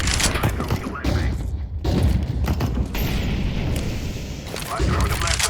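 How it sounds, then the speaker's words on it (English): A flashbang grenade bursts in a shooter video game amid other booming blasts and gunfire-like reports, loud and dense, with a voice talking over the chaotic exchange. "I'm throwing a flashbang."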